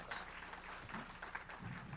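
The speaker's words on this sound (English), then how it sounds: "Let's give him a round of applause for that." Audience applause at a talk event, a short, fairly faint patter of clapping heard steadily throughout.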